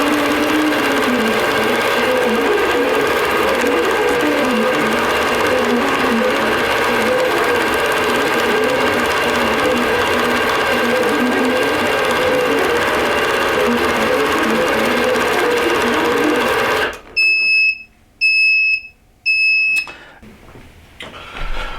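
A long-arm sewing machine stitches a winter table runner in a steady, loud, humming whir that runs for about seventeen seconds. It then stops and gives a few short, high electronic beeps in the quiet that follows.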